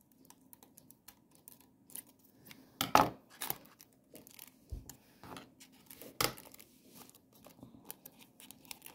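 Scissors snip open a trading card pack in several short, crisp cuts with small rustles and clicks of wrapper handling in between, close and fairly quiet.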